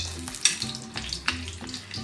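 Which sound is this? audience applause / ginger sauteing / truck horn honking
ginger sauteing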